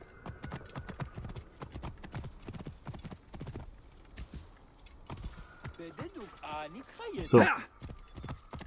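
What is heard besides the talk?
horse galloping in video game Assassin's Creed Origins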